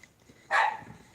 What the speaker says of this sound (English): That little miniature dog.